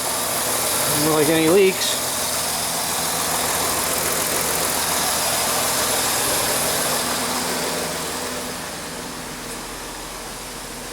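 A Jeep Grand Cherokee 3.7 engine idles steadily after repair work for code P0325, giving a close, even running drone throughout while someone talks briefly over the start.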